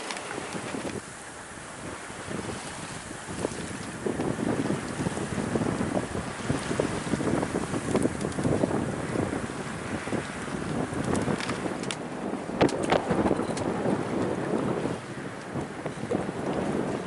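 Strong wind buffeting a reefed-down sailing yacht off Scotland, a continuous loud roar of gusts across the microphone mixed with rushing water along the hull, with a few sharp knocks, and no talking.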